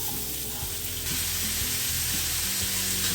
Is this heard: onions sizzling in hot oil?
yes